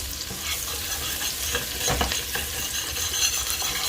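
A utensil scraping browned bits off the bottom of a pot during braised meatball cooking, steady sizzling with repeated scraping and stirring strokes, close and continuous.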